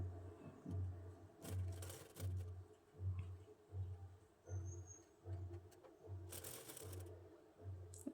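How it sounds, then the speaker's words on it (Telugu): A sewing machine stitches an old saree into a maxi dress, running in short regular bursts of rapid mechanical chatter with brief pauses and light rustling between, close and fairly quiet. "ఇక్కడ నుంచి ఇలా నీట్గా కుట్టు వేసుకోవాలన్నమాట"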